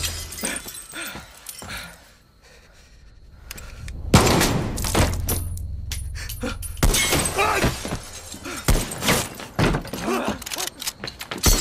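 Gunfire in the video game Far Cry 6, a loud sharp report followed by glass shattering and heavy crashing debris amid a dense, busy game soundtrack with shouted voices around it.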